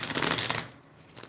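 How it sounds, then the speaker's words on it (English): A deck of tarot cards being shuffled by hand during a live reading, a close, steady riffling flutter for most of the stretch that then eases into quieter handling. "I just got to keep on shuffling until it's time to start pulling."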